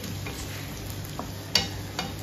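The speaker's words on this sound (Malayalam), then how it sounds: "അതിൽ തന്നെ ഞാനൊരു 4 സവാള സ്ലൈസ് ചെയ്ത് ആ ഓയിലേക്കിട്ട് വഴറ്റിയെടുക്കുകയാണ്." Sliced onions sautéing in coconut oil in a pan give a steady soft sizzle, with a few brief stirring clicks against the pan, close and alone.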